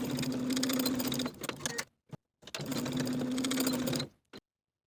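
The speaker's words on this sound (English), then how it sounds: "we're going to sew through all of those layers, straight across the bottom just as far as the fold" A sewing machine stitches straight across several layers of a linen shirt hem in two steady whirring runs, each breaking off into a short pause and a few clicks.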